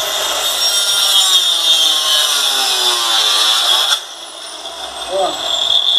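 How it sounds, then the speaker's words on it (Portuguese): Power saw cutting through pallet wood for a DIY sliding barn door, a loud, steady whining cut that drops off briefly near the end before resuming, with someone talking over it. "Vou cortar toda a madeira, tá bom?"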